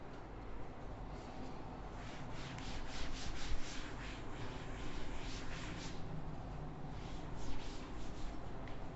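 Duster rubbing out chalk writing on a classroom board, repeated scrubbing strokes in a steady back-and-forth rhythm, close and fairly loud with no talking.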